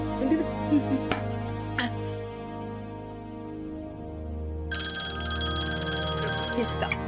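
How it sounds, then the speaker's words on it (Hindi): A phone ringtone comes in partway through as a steady electronic ring, following some clatter and background sound in a domestic scene. "किसका फोन आ गया?"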